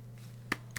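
Two quick, sharp hand claps about a quarter second apart, faint and close, over a steady low electrical hum with no voices.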